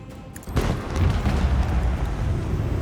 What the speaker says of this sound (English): I am going to use my warp wave to just kill him